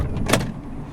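A 2013 Honda Odyssey EX-L minivan door is opened by a tug on its handle, giving one short, close mechanical clunk over a low, steady background hum.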